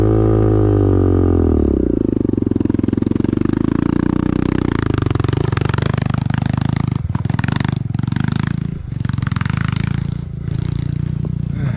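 A dirt bike on a rocky trail roars close and loud, its engine pitch rising and surging steadily, with intermittent clattering knocks and dips as it rolls over rocks.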